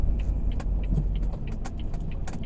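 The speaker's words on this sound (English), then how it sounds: "I can hear like something rattling at my back end of the car when I'm like in low gears." A car driving in low gear on a road, with a steady engine and road rumble under repeated short metallic rattles from the back end, sounding close and continuous throughout.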